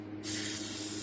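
A pump spray of hair product hits a synthetic wig in one steady, close, loud hiss that starts abruptly and continues to the end, with no talking.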